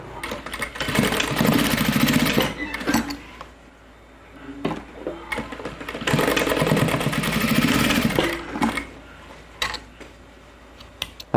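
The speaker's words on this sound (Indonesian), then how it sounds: "maka di sini emang harus dijahit di sini ya" Sewing machine stitching a 3D fabric face mask, bursts of rapid mechanical whirring separated by short quiet gaps, fairly close and moderately loud.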